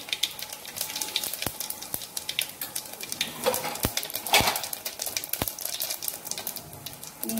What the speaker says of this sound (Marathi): आपलं तेल गरम झालेलं आहे, आता याच्यात घालते मी 1 चमचा मोहरी